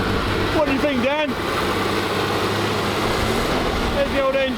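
Triumph GT6 engine idling steadily up close, a continuous low rumble running throughout, with people talking excitedly over it at the start and end.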